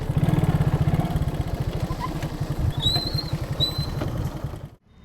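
A motorcycle engine putters close by with a rapid pulsing rhythm, then fades out, while birds chirp faintly in the background.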